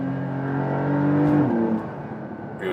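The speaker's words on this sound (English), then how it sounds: "sport exhaust, wobble a little bit." A Porsche 911 Dakar engine with sport exhaust revs up with a rising harmonic growl, then drops as it shifts down, ending in a short throaty burble.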